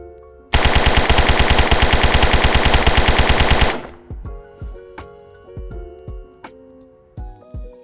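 A long, rapid full-auto burst from an unmodified Kyanite rifle in the shooter game Zero Hour, loud and evenly paced for about three seconds, then a few separate single shots ringing out with echoing tails.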